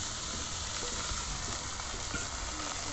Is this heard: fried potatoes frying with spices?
yes